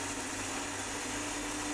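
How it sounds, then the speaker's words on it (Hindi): An electric mixer grinder whirs loud and steady as it grinds green chillies, garlic, ginger, ice cubes and salt into chutney, a constant close motor drone with a gritty blade rasp. "ये सारी चीजों को अच्छे से मिलाकर मिक्सी में ग्राइंड कर देना।"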